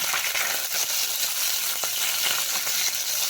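Small mourala fish fry in hot oil in a pan in a village kitchen, a loud, close, steady sizzle with occasional crackles and pops throughout.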